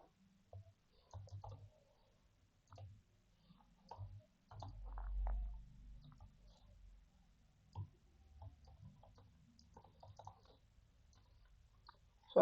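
Faint, irregular key clicks of typing on a computer keyboard come in short bursts with pauses, quiet and close in a calm room.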